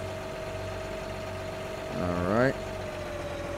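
Tractor engine idling in Farming Simulator 19, a steady low hum that briefly revs up and rises in pitch before settling back, with someone speaking over it.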